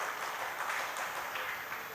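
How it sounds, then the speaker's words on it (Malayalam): Audience applause at a 96th birthday celebration for R. S. Prabhu, a fairly quiet, even patter of many hands clapping heard from a distance without a break. "ഒരു കൈയടിക്കേ ഇഷ്ടപ്പെട്ടെങ്കിൽ."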